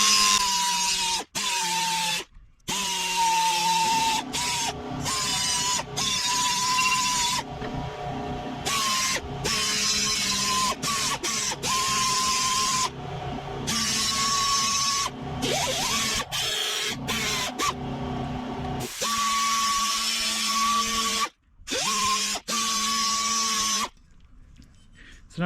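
A power tool grinds chips out of a lawn mower blade, a steady loud whine with scraping passes that stop and restart repeatedly, broken by brief silent gaps between runs.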